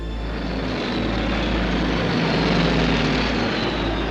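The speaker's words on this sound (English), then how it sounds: "Allied bombers pounded the concrete and steel turrets from above." Propeller-driven engines of WWII Allied bombers drone steadily at a loud, continuous level, a dense sustained roar with no voices.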